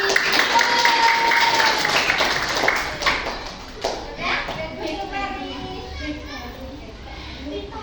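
Schoolchildren in a classroom clap for a classmate, a brief burst of loose clapping mixed with chatter and a teacher's voice, then fading into children's talk.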